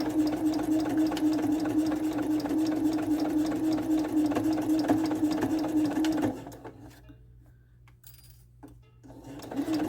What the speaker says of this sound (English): I'm going to stitch right over the first basting stitch on the stitch line